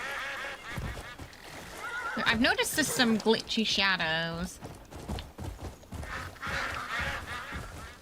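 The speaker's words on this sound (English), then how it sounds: "That was definitely the noise of geese." A few loud honking goose calls sound in the video game Crimson Desert, alongside neighing horses, while someone talks over them.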